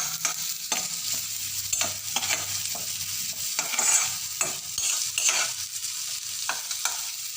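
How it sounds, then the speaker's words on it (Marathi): Onion lightly frying until browned for bhel, a steady close sizzle with repeated stirring scrapes and clinks of a spoon against the pan, no voices. "कांदा हलका असं थोडं तांबूसून द्यायचा"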